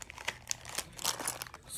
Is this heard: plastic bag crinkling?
yes